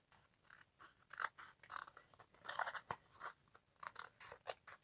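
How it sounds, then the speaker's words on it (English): Scissors cut through card for a handmade corner fold card, a quiet, close series of crisp snipping and crunching cuts in an irregular rhythm. "I will just cut this with my scissors"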